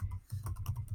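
Quick keystrokes patter on a computer keyboard as an email address is typed, close and quiet, in an uneven run of taps.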